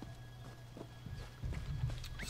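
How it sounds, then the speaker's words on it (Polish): A horse in The Elder Scrolls Online gallops up stone stairs, a short run of quick hoof thuds that grows louder toward the end, fairly close and alone over a faint background hum. "Galopem po schodach."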